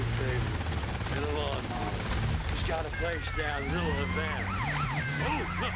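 Police sirens wail in GTA Vice City gameplay, rising and falling in sweeping wavering tones over a dense, loud game mix with a low rumble, while a voice talks over them.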